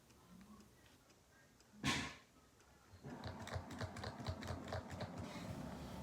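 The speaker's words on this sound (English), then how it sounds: "let me just type" Soft, rapid key clicks from typing on a braille display keyboard start after a single louder knock. The tapping is close and quiet and carries on steadily.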